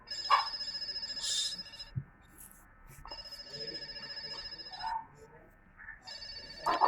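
A ringtone alert plays on a phone handset synced with a Bluetooth fitness wrist band, sounding in several repeated bursts of tonal ringing at moderate level with quieter gaps between them.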